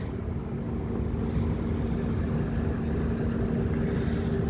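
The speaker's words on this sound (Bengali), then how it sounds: "সাধারণ জাহাজ মালবাহী জাহাজ যাচ্ছে" A cargo ship passes on a river through the Mongla industrial area in Bangladesh, producing a steady, low engine drone with a faint tonal hum and wind noise, unbroken throughout.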